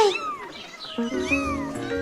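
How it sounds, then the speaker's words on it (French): An angry cat yowls in rising and falling drawn-out meows, close and fairly loud, over a short stretch with a faint background tone. "Caillou avait peur du chat en colère."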